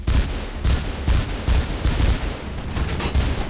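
A weapon fires in Mirror's Edge, loud close gunshots arriving in a steady rhythm of roughly two per second throughout, with no talk over them.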